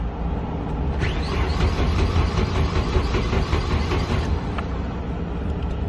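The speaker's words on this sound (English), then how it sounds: "beautiful, it is cranking. Just wanna make sure I get oil over. Do another crank." A Nissan B14 200SX engine, freshly fitted with a bigger turbo, cranks over continuously without firing, a steady loud mechanical churn with no talking.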